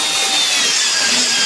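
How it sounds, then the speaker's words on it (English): A steady, loud grinding hiss of a Forstner bit in a horizontal drill boring into wood for a toy car, continuous and close, with no pauses or voices. "So this is the horizontal drill, where this is another Forstner bit"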